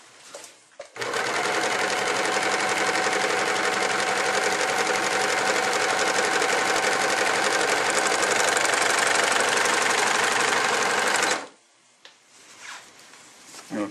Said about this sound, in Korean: 이렇게 오버록을 하였습니다